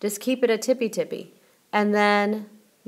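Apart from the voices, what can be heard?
None of the usual background noises is heard.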